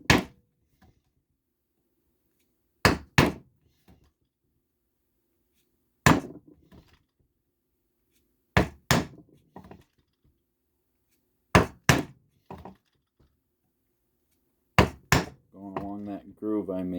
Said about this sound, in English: Now I'm going to punch my holes. I'm going to use a 2-prong flat 4mm chisel